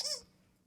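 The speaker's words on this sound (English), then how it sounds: "Do I hear someone squeaking" A single short, high squeak at the start of a quiet indoor scene fades quickly into near silence, with no talk over it.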